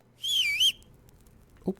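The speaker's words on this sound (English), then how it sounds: "I can whistle." The player character whistles in the medieval game Kingdom Come: Deliverance: a single clear, high, wavering whistled phrase lasting about half a second, followed by a brief soft thump, heard alone.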